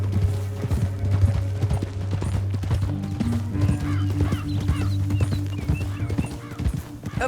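Horses gallop in Red Dead Redemption 2, hooves drumming in a quick, continuous clip-clop with an occasional whinny, set against a sustained tonal game score.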